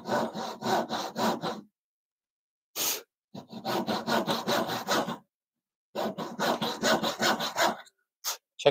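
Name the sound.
hand saw cutting a kerf in wood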